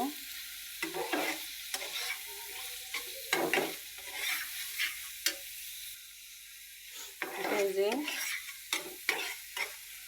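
Tomato pieces sizzle and fry in oily, well-cooked spice paste while being stirred, with scraping stir strokes coming in bursts over a steady hiss of frying, close up and without voices.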